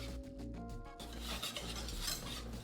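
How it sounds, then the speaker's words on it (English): Whisk scraping and clinking in a pan as flour is stirred into melted butter for a lobster mac and cheese roux, a continuous close rasping stir. "When the butter is nice and molten, add in all of your flour and now whisk away."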